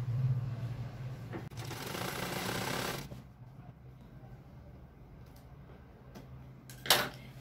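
Sewing machine stitching a cotton pillowcase at home, running in a steady rapid whir for about a second and a half before stopping, followed by quieter handling sounds and a short sharp click near the end.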